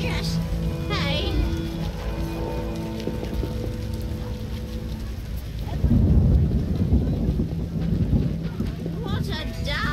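A heavy rain downpour with thunder, a dense roar of rain mixed with a low rumbling swell that builds partway through, loud and close, with voices and other sounds layered over it.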